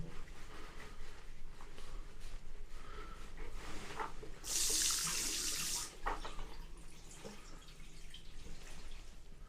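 Water rushes loudly from a leak for a second or so amid quieter indoor rustling and faint dripping sounds in a budget hotel room in Blackpool.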